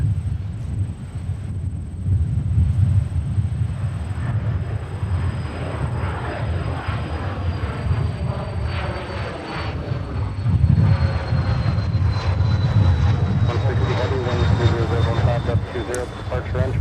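Delta airliner lining up on the south parallel runway at MSP for departure to Amsterdam, with a continuous low engine rumble and a high whine slowly falling in pitch, interrupted by brief talk and radio chatter.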